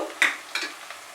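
Ground cumin, coriander, Kashmiri red chili powder and turmeric fry in oil over medium heat, a faint sizzle punctuated by two or three quick stirring scrapes.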